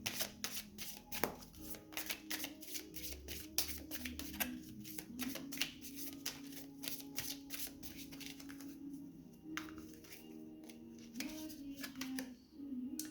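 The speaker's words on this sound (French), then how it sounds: "Je vais tirer 3 cartes." Tarot cards shuffled and drawn by hand, a steady run of quick papery riffles and flicks lasting the whole stretch, close and fairly quiet with no talking.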